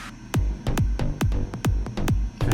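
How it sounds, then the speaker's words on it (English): An uplifting trance bass line plays together with the full arrangement: loud, punchy kick drums land in an uneven rhythm over sustained synth layers, with no talking. "Let's just hear the bass line combo with all the other stuff so far"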